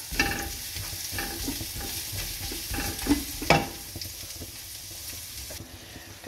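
Beef stir-frying with garlic in a pan, a loud close sizzle broken by repeated stirring scrapes and a couple of sharper clatters midway.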